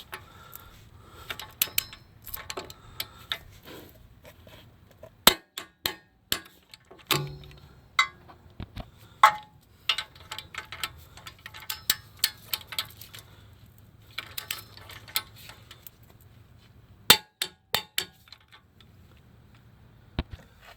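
A torque wrench tightens bolts during a driver's-side CV axle replacement on a Kia Soul, giving sharp, irregular metallic clicks and ticks, some loud and close, scattered over a quiet background.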